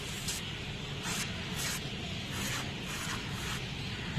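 Aerosol can of wet chain lube sprayed onto the chain of a Bajaj Dominar 400 motorcycle, soft hissing bursts repeating roughly every half second at a quiet, close level.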